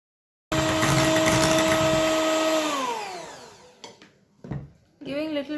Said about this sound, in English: Now give one mix and continue beating for about 3 minutes.